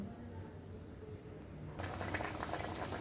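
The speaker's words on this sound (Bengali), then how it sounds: "দেখুন ঝোলটা কত সুন্দর ফুটছে" Thin hilsa and eggplant curry broth bubbling at a steady simmer in a pot, a soft continuous burble that grows slightly louder and busier partway through, with no talk.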